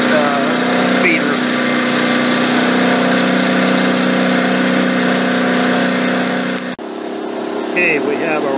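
A portable generator engine runs steadily on an auxiliary fuel feed, a loud continuous hum with a droning tone that briefly dips near the end while a person talks over it.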